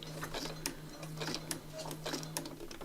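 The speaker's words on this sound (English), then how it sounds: "It's a bit funny sewing on this stuff, it wants to slide on you" A sewing machine stitching through a slippery acetate laminator pouch, with a quiet, steady mechanical ticking rhythm and a low motor hum beneath it.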